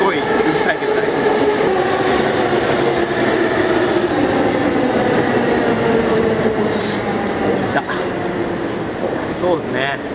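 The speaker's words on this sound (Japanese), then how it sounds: "電車がすごいうるさいけど大丈夫。" A loud train rumbles past close by outside a Shibuya music venue, steady and continuous, with brief high wheel squeals near the end and voices talking underneath.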